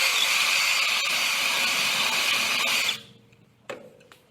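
A power drill with a 12.5mm bit whines steadily for about three seconds drilling through metal BBQ legs held in a vise, then stops and winds down, followed by a faint clunk and quiet handling.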